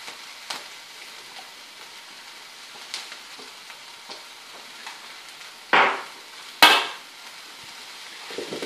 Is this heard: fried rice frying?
yes